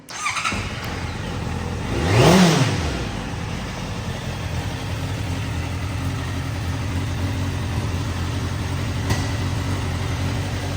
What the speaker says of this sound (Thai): ฟังเสียงเครื่องครับผม